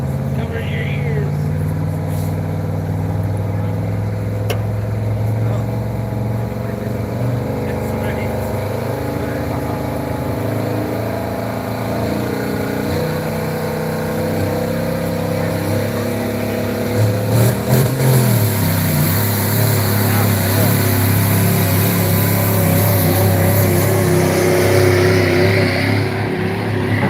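A pulling truck at a truck and tractor pull in Pennsylvania roars loudly. Its engine holds a heavy drone and then revs harder partway through, while an announcer's amplified voice carries over it.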